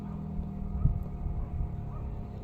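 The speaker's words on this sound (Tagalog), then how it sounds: "Nagtingog na sang makina ni Kuya Johnny mo nak." An engine runs nearby on a rural farm, a steady low droning hum that holds fairly faint and even throughout, with a brief dull thump partway through.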